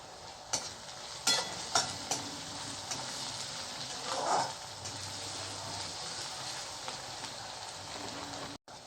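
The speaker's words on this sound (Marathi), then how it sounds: "कांदा होऊ देऊया आपण व्यवस्थित आपण थोडंसं मीठ म्हणजे कांदा लवकर होईल" Onions frying with a little salt in a pan make a faint, steady sizzle, broken by a few light scrapes of stirring. No one speaks.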